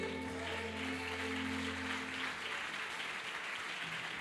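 A church congregation applauds with steady, continuous clapping, heard fairly faint with a low sustained hum of held tones beneath it.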